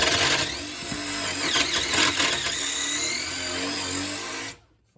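A power drill grinds steadily into a rusted, stuck spare tire carrier hoist on a 2004 Toyota 4Runner, loud and continuous with slight surges in pitch, then cuts off abruptly near the end.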